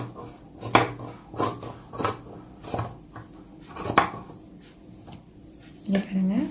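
Scissors cutting cloth in a tailoring session, a series of crisp snipping blade closures repeating every second or so, close and distinct, with a low hum underneath.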